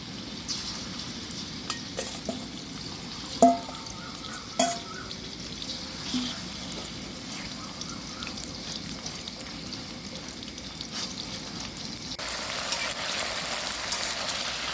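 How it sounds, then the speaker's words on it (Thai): Marinated pork frying in vegetable oil over medium heat, giving a faint, steady hiss of sizzling with a few soft pops and clicks, with no voices over it. "พอน้ำมันเริ่มร้อนก็ใส่หมูที่เราหมักลงไปได้เลยค่ะ ใช้ไฟกลางๆนะคะ ไม่ร้อนมาก ค่อยๆทอดเข้าไปค่ะ"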